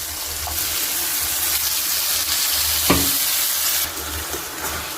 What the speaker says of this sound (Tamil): நல்லா தக்காளி வதங்கணும்.